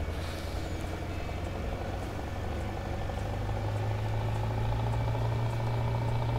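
A truck drives in Landwirtschafts-Simulator 19 (Farming Simulator 19), its engine a loud, steady low drone with a faint tonal hum that holds throughout without pause.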